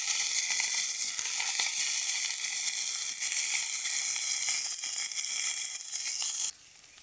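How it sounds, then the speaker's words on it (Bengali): Papaya and pointed gourd pieces frying in hot oil in a pan for a Bengali fish curry, a loud, steady close-up sizzle that drops off sharply near the end. "পেঁপে আর পটল দিয়ে দেবো আগে তেলের ওপরে"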